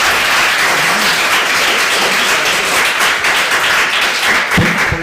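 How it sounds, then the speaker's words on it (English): Audience applause fills a planning commission meeting hall, steady dense clapping from a crowd held throughout, with a brief low voice near the end. "Please don't applaud every time I say something"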